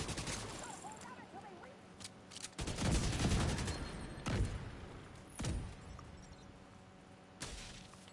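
A deployed turret fires at enemies in The Division 2 in short bursts of sharp gunfire. The loud shots and impacts come in irregular clusters, with quieter game ambience between them.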